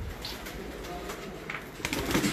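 Pigeons from a flying squad give low cooing calls nearby, and a few sharper rustles and bursts near the end break into the steady murmur.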